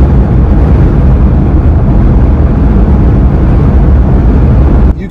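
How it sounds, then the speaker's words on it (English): Steady, loud wind roar buffets the cabin of a Jeep Gladiator truck in a crosswind, a dense low rumble that holds constant for about five seconds before easing at the very end. "Definitely can hear more wind noise, I guess, buffeting or hitting against the truck."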